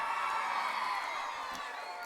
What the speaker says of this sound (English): Give him a round of applause, that was brilliant.